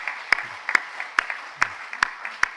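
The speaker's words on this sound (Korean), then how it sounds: "큰 박수로 하나님께 영광 돌리고 격려하겠습니다" A church congregation claps after a praise performance during a Sunday service, a sparse, fairly slow clapping with distinct sharp claps standing out at an even rhythm over a faint room wash.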